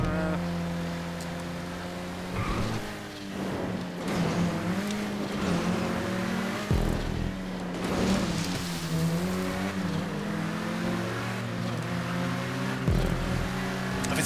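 Cars race in a GTA 5 Cunning Stunts stunt race, with engine tones droning and rising and falling loudly and continuously as the vehicles accelerate and shift, accompanied by game sounds.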